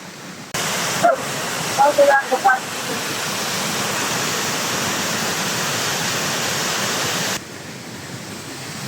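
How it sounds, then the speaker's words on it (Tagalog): Floodwater rushes hard through a street during a typhoon in Santa Rosa, Laguna, a loud, steady broadband roar that starts abruptly, briefly carries a few short voice-like bursts early on, then cuts back to a quieter wash near the end. "Lumakas na yung tubig"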